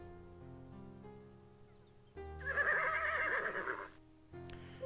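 Horse whinnying in the video game Conquests of the Longbow: a loud, wavering neigh of about two seconds rising out of soft game music, followed by a brief snort.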